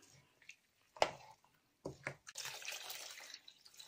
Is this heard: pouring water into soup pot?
yes